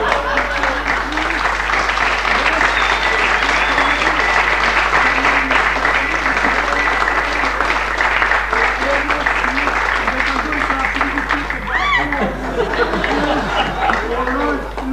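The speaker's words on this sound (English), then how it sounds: "please give this lady a very big applause" Sustained, dense applause and clapping from an audience at a magic show, loud and continuous throughout with some crowd chatter mixed in.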